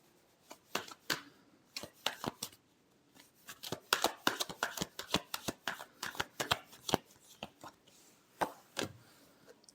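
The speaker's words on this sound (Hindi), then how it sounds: "Last shuffle." Tarot cards being shuffled by hand, close and crisp, with rapid riffling flutters and slaps in irregular bursts throughout, no talking.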